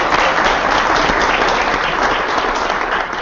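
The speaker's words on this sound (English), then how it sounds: "we want to give Marcellus a round of applause." A room of trainees at a bootcamp training session gives sustained, loud applause, a thick continuous clatter of many hands that fades slightly at the end.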